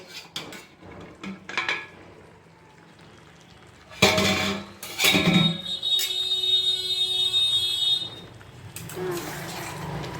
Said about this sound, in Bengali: আমি এবার ঢাকনাটা উঠিয়ে দেখি